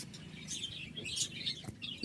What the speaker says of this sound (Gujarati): મસ્ત મજાના નાના નાના પોપટ જોઈ શકો છો